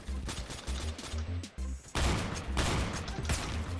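Shotgun blasts in Roblox Phantom Forces, a few loud close booms spaced apart after a stretch of lighter clatter and footsteps, with some in-game voice underneath.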